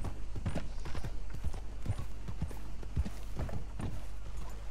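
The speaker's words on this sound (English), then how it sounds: "even as your horse moves from wood to dirt to cobblestone, the sounds are just right" Horse hooves in the video game Red Dead Redemption 2, ridden around Saint Denis plantations: steady, close clip-clop strikes in a brisk rhythm, shifting over wood, dirt and cobblestone surfaces, with no talking.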